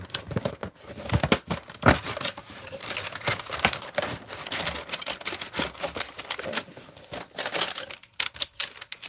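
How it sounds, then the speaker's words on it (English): Crinkly paper packaging torn and opened on a box of Kiwi Ears earphones, a close, busy run of sharp crackles, rustles and snaps in irregular bursts for several seconds, with no talk. "crinkly paper"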